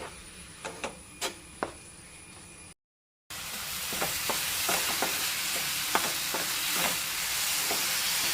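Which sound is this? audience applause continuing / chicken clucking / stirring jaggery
stirring jaggery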